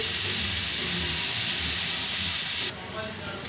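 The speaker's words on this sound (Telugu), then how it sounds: "ఆనియన్స్ని ఇలా బాగా వేయించుకోవాలండి" Onions frying in a pan with slit green chillies and curry leaves for a spicy egg curry, a steady broad hiss of sizzling oil that drops slightly in level near the end.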